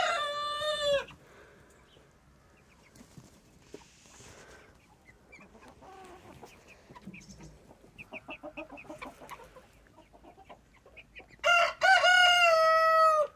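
Two loud crows from Azur and Bourbonnais roosters ring out close by on a poultry farm, one at the start and one near the end, with softer clucking and chicken noises in between.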